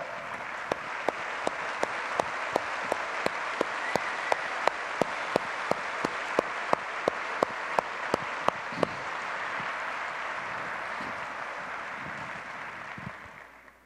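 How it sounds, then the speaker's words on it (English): A conference general session audience applauds distinguished fellows as they stand, with sustained clapping from a large crowd and a few sharp, louder claps standing out near the front before the applause tapers off at the end. "You have earned a round of special applause."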